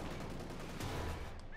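Dense gunfire in the Company of Heroes 2 World War II strategy game, a continuous crackling barrage of rapid shots heard faintly and fairly evenly throughout a short stretch, with no clear pauses.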